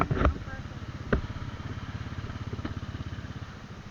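Several motorcycles idle together before a group ride toward Real Quezon, a steady, close, rumbling pulse of engines with a few sharp knocks and clatters on top.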